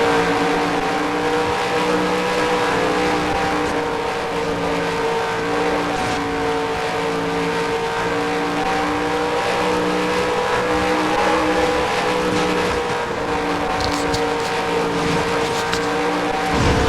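Stock car racing video game with race cars accelerating: a loud, continuous engine drone with shifting revs holds throughout, layered with the whine of several cars on track.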